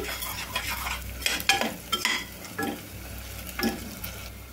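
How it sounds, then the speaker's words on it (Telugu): Salted sliced onions sizzle in a pan while a spoon scrapes and stirs them, giving a steady frying hiss broken by irregular metallic scraping strokes, close up and without talk. "మధ్య మధ్యలో ఇట్లా కలుపుతానైతే వేయించుకోవాలండి."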